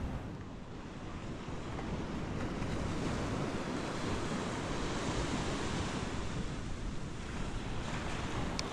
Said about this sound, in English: We made it to the pink sand beach.